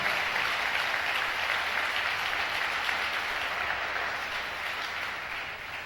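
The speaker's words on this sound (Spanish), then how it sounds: "Dale un fuerte aplauso" A church congregation gives a strong round of applause during a Spanish-language sermon, a thick, continuous wash of many hands clapping at steady loudness that eases slightly toward the end.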